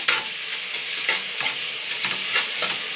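Tomatoes sizzle and fry in a pan with golden-browned onions for mushroom biryani, stirred now and then with a spoon, giving a steady close crackle with soft scraping bursts.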